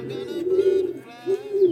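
A domestic pigeon coos close by, two low throaty rolling calls with a brief pause between them.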